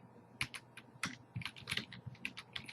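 A computer keyboard is used to type a tab name in software, giving quick bursts of light, crisp keystrokes in an uneven rhythm, close and moderately soft, with no talk.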